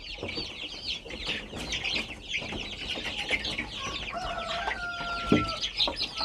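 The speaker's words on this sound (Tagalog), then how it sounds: "So itong mga sisiw natin dito, halo-halo, may mag one month old at merong week old." Chicks of mixed ages, from a week to a month old, cheep and cluck busily in a brooder as they are given feed. The chirping is steady and fairly close, with a few louder calls.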